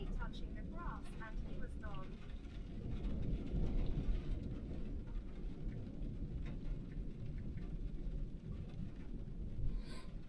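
Heavy rain pours steadily during a farm harvest day, a dense constant roar with low rumbling like distant thunder, plus a few faint birdlike chirps early on.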